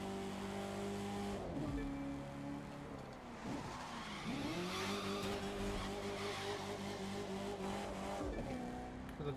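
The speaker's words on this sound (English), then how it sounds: "You can hear that engine spool, though." A truck in The Crew 2 video game revs with a steady engine drone and rising whine of turbo spool, dipping briefly during gear changes and tire squeals, continuous and fairly quiet.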